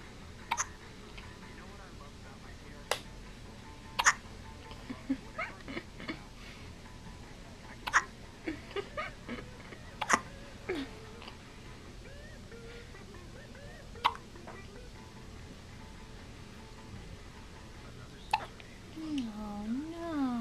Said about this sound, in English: Your shirt's too big and you have hiccups.